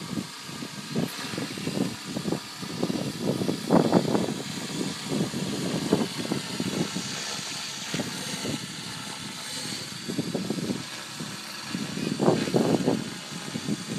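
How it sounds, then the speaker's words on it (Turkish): A small radio-controlled model helicopter's buzzing rotor and motor hum continuously at a moderate distance, rising and falling in intensity, flying in wind. "Helikopter kendi uçuyor resmen."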